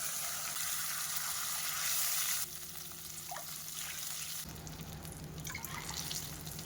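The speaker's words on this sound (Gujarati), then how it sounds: "હવે આપણે તેની અંદર છાશ ઉમેરીશું" Buttermilk poured into a hot pan of garlic and chili tempering, a steady splashing pour with sizzling that shifts and drops away partway through, then a softer simmering bubble, no voices.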